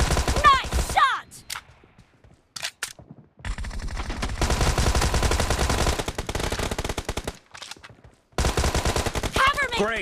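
Rapid machine-gun bursts in a mobile team deathmatch shooter game, loud and close, repeated in several long volleys separated by short silences, with faint game voice cues.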